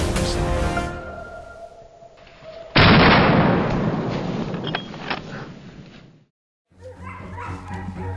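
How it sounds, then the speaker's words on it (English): Hunting dogs bark during a wild boar hunt in a forest, harsh and close over a loud, sharp burst like gunfire, with a short silence and then a chopped, repeating sound. "The sharp barking of the hunting dogs and the shouting of our teammates added to the tension."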